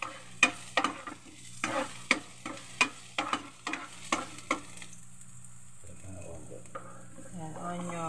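Garlic and ginger being sautéed in a pan: a run of sharp, evenly spaced metal scrapes and taps from stirring rides over a faint sizzle, then the strokes stop and a quieter hiss with a brief clatter remains.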